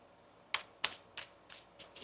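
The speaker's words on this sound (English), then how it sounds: "One more shuffle now." Tarot cards being shuffled in a quiet room: a series of soft, crisp riffling bursts, about six in quick succession, close and faint.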